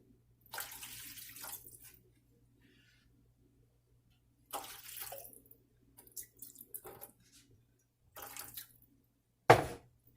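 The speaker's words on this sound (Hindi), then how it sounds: "देखिए अभी हमने इसमें डाल दिए 2 ग्लास वाटर" Water poured into a pot for roasting a leg of mutton, arriving in several separate bursts of splashing pour with short gaps between them and a sharper splash near the end, with no talking over it.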